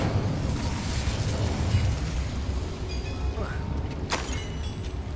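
Incendio fire spell cast in the Hogwarts Legacy video game, a steady rumbling burst of flame lasting several seconds beneath game ambience, with a sharp crackle near the end.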